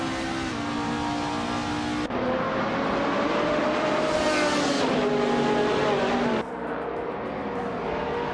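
On a racing track, an Infiniti G35 and a BMW Z4M Coupe drive past with loud, sustained engine tones that shift in pitch as they accelerate, with abrupt changes as cars pass close by.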